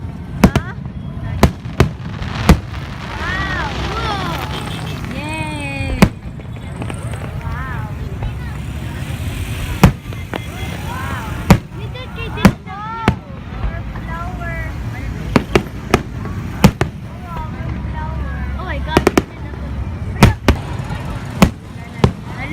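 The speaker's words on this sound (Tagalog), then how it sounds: "Fireworks just started." Fireworks bursting at the Sinulog festival in Cebu, sharp irregular bangs and crackles scattered through a long stretch, some near and loud, over a busy crowd with people talking and whistling tones rising in places.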